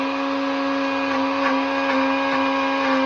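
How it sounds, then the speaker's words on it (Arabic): Countertop blender whirring steadily as it purees green pepper, onion, two garlic cloves and tomato, a close, continuous motor drone with no talk. "هنضربهم في الخلاط"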